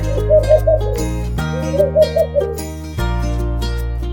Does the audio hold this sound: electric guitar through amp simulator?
no